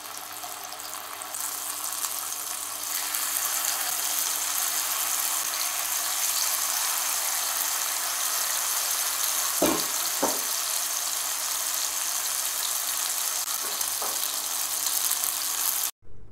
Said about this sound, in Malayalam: ഏകദേശം ഒന്ന് ചൂടായി വരുമ്പോൾ നമുക്കതിലോട്ട് മാരിനേഷൻ ചെയ്ത് വെച്ചിട്ടുള്ള ഫിഷ് ഇട്ട് കൊടുക്കാം.